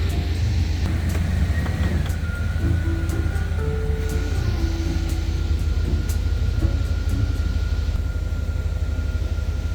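An old truck's engine runs steadily with a constant low rumble throughout, loud and close, with no talking.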